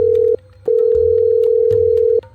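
Telephone tones sound for an incoming call, loud and electronic: a short steady beep, then a pause, then a longer sustained tone, with no voices.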